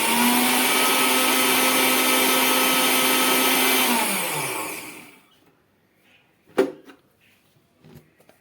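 An electric grinder spinning red chillies with a spoonful of refined oil, a loud steady high-pitched whir for about five seconds that winds down as the motor stops, followed by a couple of faint clicks and knocks.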